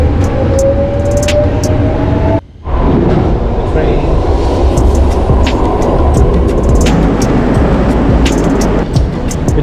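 Loud, steady rumbling roar of a train in motion, broad and close, with rattling clicks and a brief dropout partway through.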